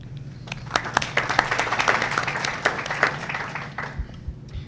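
Audience clapping at a Physical Therapy Board of California meeting, a spread of individual claps rising into a steady round of applause and then thinning out into a few last scattered claps.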